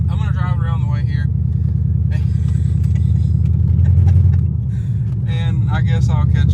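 A Chrysler 300C with a 5.7 Hemi and long tube headers drives along with a deep, steady, close engine rumble that swells briefly, while someone talks over it.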